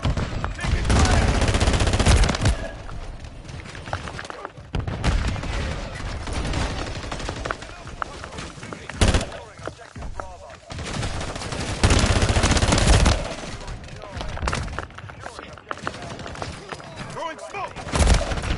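Near-constant automatic weapon fire and explosions fill a Call of Duty Modern Warfare III firefight, with heavy bursts rising and falling across the whole stretch and shouted voices mixed in.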